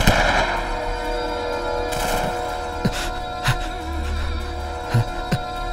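Scattered gunshots crack out a few times at irregular intervals, distant-sounding, over a steady droning background.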